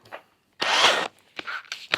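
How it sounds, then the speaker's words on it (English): A small power drill whirs in one short, loud burst lasting about half a second, followed by a few briefer, quieter bursts and some handling noise close by. "This little drill is not the most powerfulest, but I really like it."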